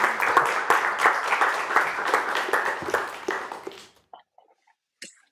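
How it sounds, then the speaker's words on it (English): Audience applause welcoming a presenter at a digital performance talk in a studio, a dense burst of hand clapping from a small crowd that holds steady for about four seconds before fading out, followed by near silence. "you're going to have to clap quite loud because you're not mic'd up"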